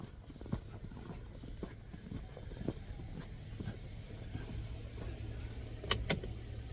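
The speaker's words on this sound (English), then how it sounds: "forgot I was pumping gas" A fuel pump fills a car's gas tank at a snowy Yosemite roadside stop, a steady low hum running throughout with scattered clicks and handling knocks, plus a couple of sharp clinks near the end.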